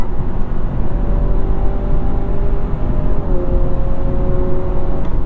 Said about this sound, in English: It gets so much louder when you're in sport mode.